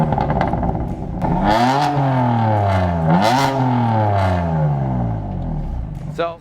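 Twin-turbocharged inline-six in a BMW F80 M3 idles, then is blipped repeatedly, rising and falling in several sharp revs with a raspy, loud nearby tone before cutting to quiet at the end.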